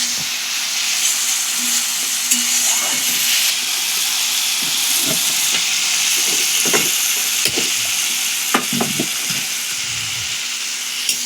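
Loud, constant sizzling hiss of spices frying in hot oil, close by, with a few soft clicks and stirring scrapes.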